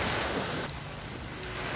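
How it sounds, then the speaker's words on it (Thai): Sea waves breaking on the sandy shore of Sai Kaeo beach, a steady broad wash of surf with wind noise over the microphone, continuous and fairly close, no voices. "เอาเสียงคลื่นทะเลสัดสะดกระทบฝั่งมาฝากนะครับ"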